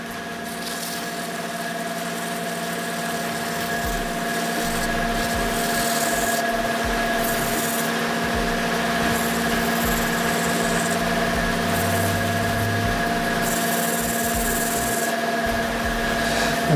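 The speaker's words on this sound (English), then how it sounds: "we'll go through the grits and just give it a nice sand up now" A steady mechanical hum of a spinning lathe with a constant whine, overlaid by a soft rasping of sandpaper rubbing a burl wood shaving brush handle, continuous throughout.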